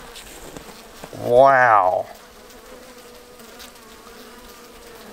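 Honey bees at an open hive with brood frames give a steady, low buzzing drone throughout, with a person briefly exclaiming close by partway through.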